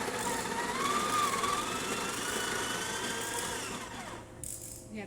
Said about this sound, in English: You have to increase the grind size to get it to go through the grinder.